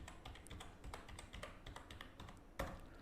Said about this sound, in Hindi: जैसे अभी मैं कीबोर्ड पे टाइप कर रहा हूँ